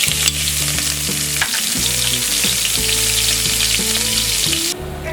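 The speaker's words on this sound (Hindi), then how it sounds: "तेल और घी गरम हो गया। अब हम इसमें डालेंगे ये 1 टीस्पून जीरा, हाफ टी स्पून हींग, 2 ग्रीन चिलीज फाइनली चॉप्ड" Cumin seeds, hing and chopped green chilies dropped into hot oil and ghee for a moong dal millet khichdi, giving a loud, steady crackling sizzle that holds throughout, close up.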